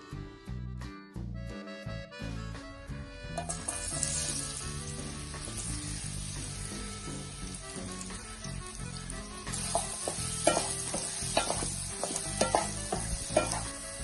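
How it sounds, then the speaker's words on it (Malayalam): Banana pieces sautéing in ghee in a pan, opening with clattering knocks before a steady crackling sizzle takes over, punctuated by louder scraping and stirring toward the end; nobody speaks. "ഇനി 1 സ്പൂൺ കൂടെ നെയ്യ് ചേർത്ത് പഴം നന്നായിട്ട് വാട്ടിയെടുക്കണം."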